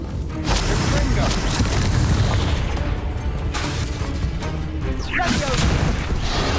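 Confringo explosive spells blasting in the Hogwarts Legacy video game, a dense, loud, continuous barrage of booming, crackling blasts layered over constant roaring game noise.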